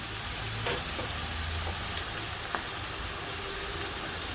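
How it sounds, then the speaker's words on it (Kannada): Grated raw mango frying with onions and chillies in a pan: a dense, steady sizzle over a low rumbling hum, with a few faint scraping stirs and a light clink. "ಮಾವಿನಕಾಯಿ ಹಾಕ್ಕೊಂಡು ಇದು ಚೆನ್ನಾಗಿ ಫ್ರೈ ಆಗೋವರೆಗೂ ಫ್ರೈ ಮಾಡ್ಕೊಳ್ಳೋಣ."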